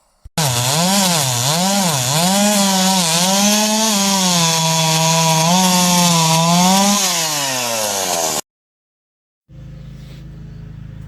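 A Ryobi 36V 14-inch battery chainsaw whines loudly and continuously for about eight seconds, its pitch dipping and rising in waves as it bites into wood, then it stops abruptly, followed by a short low hum.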